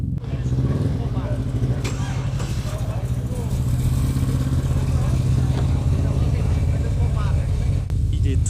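A car engine with a modified camshaft rumbles and revs loudly and steadily up close, its lopey throb running throughout while people talk over it.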